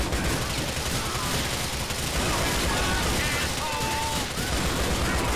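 Sweeper shotgun fire in Grand Theft Auto IV, The Lost and Damned, a loud dense barrage of overlapping blasts running continuously throughout with faint voices underneath.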